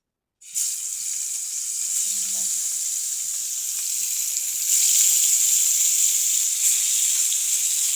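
Pointed gourd and fish frying in a pan, a sudden burst of hissing sizzle that starts abruptly and stays loud and even, swelling slightly partway through, with a faint clink early on.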